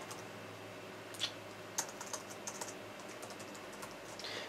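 Quiet typing on a computer keyboard while entering a terminal command in Ubuntu Linux, a few scattered soft key clicks with pauses between them over a faint background hiss.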